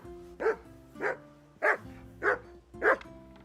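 In the medieval video game Kingdom Come Deliverance II, a dog gives five evenly spaced, fairly close barks over about three seconds against a quiet background.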